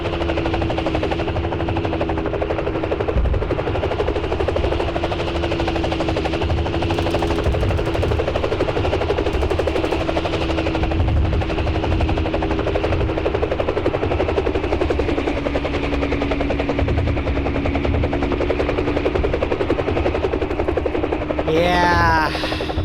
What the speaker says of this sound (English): And you heard the gunships firing as well.